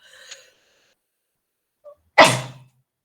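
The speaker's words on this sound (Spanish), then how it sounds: "es la primera vez que estornudo" A woman sneezes once during a lecture, sharp and close, preceded by a faint soft breathy sound and a short catch of breath.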